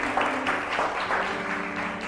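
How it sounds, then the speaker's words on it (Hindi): Applause from a group celebrating a decorated birthday table on a Hindi TV show, steady dense clapping lasting about two seconds with a faint voice underneath. "बहुत सारी तालियां"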